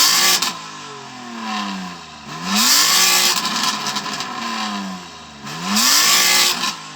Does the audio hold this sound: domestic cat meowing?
no